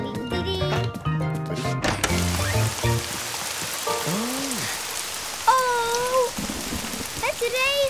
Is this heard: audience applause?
no